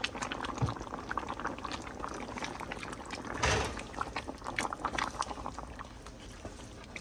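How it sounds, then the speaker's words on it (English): Butter beans go into a simmering oxtail stew, giving soft pouring, bubbling and liquid stirring sounds at low level with one fuller splash midway. "right about now, we are adding the butter beans"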